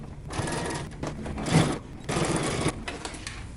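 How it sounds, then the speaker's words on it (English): A sewing machine runs along a seam on a fabric foldover clutch in two close, steady whirring bursts with a short pause between them and no talk. "And then we're going to sew it together the same exact way."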